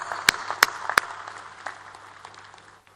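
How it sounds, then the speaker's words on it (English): At a university graduation ceremony, applause for the graduating students opens with three loud, close claps, then dissolves into softer scattered clapping that fades toward silence. "give a big round of applause to our graduating students"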